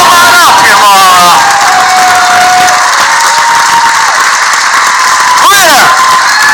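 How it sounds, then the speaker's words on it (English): A live crowd at a Schmoedown championship event claps, cheers and whoops loudly for a winner, with shrill shouts rising over a continuous roar of applause. "Give this woman the applause she deserves."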